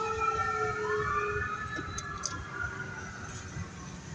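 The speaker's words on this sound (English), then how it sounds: "It's just an ambulance." An ambulance siren wails in rising and falling sweeps, fairly faint and distant, over a low rumble of background noise, with no one talking.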